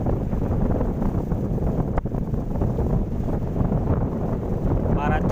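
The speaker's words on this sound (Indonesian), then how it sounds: "Angin kisaran 27 km per jam." Strong wind buffeting the microphone at sea beside a fishing platform, a steady loud roar with low rumble throughout, a brief gust thump near the middle, and a faint whine toward the end.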